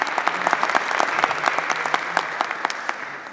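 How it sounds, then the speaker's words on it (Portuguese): Conference audience applauding a speaker, a dense burst of many hands clapping at once, close and steady, tapering slightly toward the end. "Uma salva de palmas, por favor."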